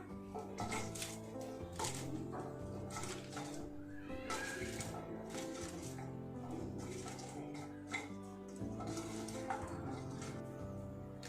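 Ingredients being mixed in a dish, with repeated clinks and scraping of a utensil against the bowl in irregular bursts, close, alongside intermittent speech.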